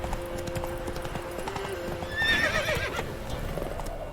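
Roach, a horse in the video game The Witcher 3, gallops with rapid, steady hoofbeats and lets out a brief whinny in the middle.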